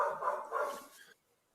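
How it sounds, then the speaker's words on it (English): A dog barks in a quick burst of several close, moderately loud barks and yips indoors, then falls silent. "I hear the dog."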